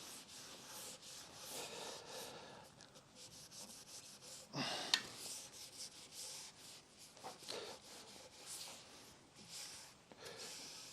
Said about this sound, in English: 400 grit, wet and dry sandpaper.